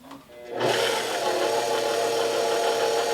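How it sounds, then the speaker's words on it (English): A KitchenAid stand mixer with a dough hook starts up on its slowest speed, kneading sourdough hamburger bun dough, settling into a loud, steady motor whir with a rhythmic churning hum close by. "I'm going to do this in my KitchenAid with the dough hook on the slowest speed"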